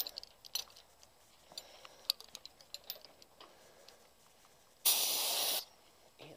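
Scattered faint ticks and taps, then a single loud hiss of a spray can of Corroseal rust protection coating on a trailer, lasting under a second, close up.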